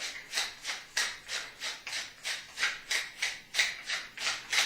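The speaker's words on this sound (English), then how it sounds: "I'm also going to put some fresh ground pepper in there." Fresh black pepper being ground in a pepper mill, a raspy grinding of about a dozen even, rhythmic twists heard close and alone.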